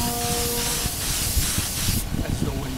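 Spray painting puts a white coat onto Kawasaki, Suzuki, Bimota and Honda NS250 motorcycle parts, a loud continuous hiss close by that cuts off near the end as wind noise rumbles underneath.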